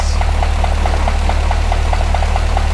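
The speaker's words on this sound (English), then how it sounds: "It is idling pretty low." A car engine idling too low, with a steady low rumble and a faint regular ticking pulse repeating about every fifth of a second, close and continuous with no talking.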